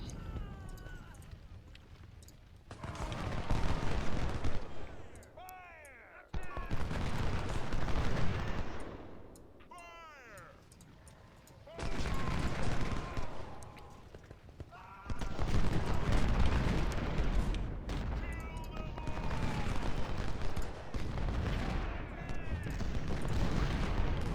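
Musket volleys and artillery fire from Union troops in a Total War-style Civil War strategy game, loud sustained crackling bursts with booming blasts, in several waves with brief lulls, under a voice talking.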